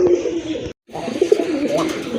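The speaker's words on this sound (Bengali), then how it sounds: "এটা হচ্ছে আপনার বিগ সাইজের এক জোড়া খাকি কবুতর" A pair of large khaki pigeons coo close up in low, throaty rolling calls, repeated over a brief moment with a short silent break in the middle.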